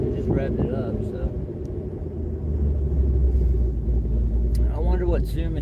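A 2013 Corvette C6 LS3 engine with a faulty oil pressure sensor rumbles steadily at close range, its low drone swelling as it revs, while people talk over it.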